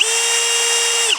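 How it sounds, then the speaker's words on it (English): An electric drill spins steadily at high speed, boring through a Jeep ball joint, one continuous close whine that winds down at the end, with no one talking. "I'm gonna go ahead and drill right through the middle of this thing"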